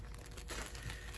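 Paper packaging around a Palace Arc'Teryx t-shirt crinkles and rustles continuously for about a second, close and fairly quiet.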